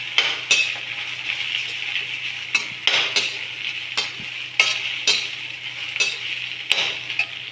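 Onion frying in a pan for village-style radish paratha, a bright steady sizzle broken by repeated sharp clinks and scrapes of a utensil stirring against the pan, close and without speech.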